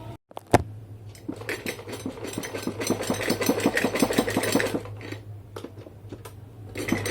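A sewing machine runs a straight seam along the half-inch margin of a pair of pants. Its rapid, even needle pulses are loud and close, start after a short pause, and run steadily for several seconds before slowing.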